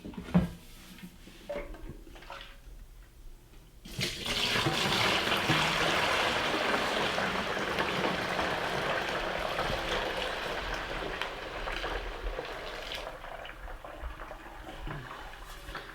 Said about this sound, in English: So let's go ahead and pour this milk in.